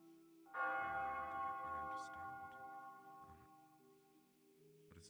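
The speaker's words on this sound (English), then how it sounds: "What does that bell mean, anyway?" A bell rings out clearly with a rich, sustained tone that slowly decays, with a second softer strike later and quiet voices around it.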